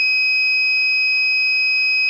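A 3D printed myoelectric hand's buzzer gives a loud, steady high-pressure warning: one continuous pure electronic tone, held without a break and heard alone.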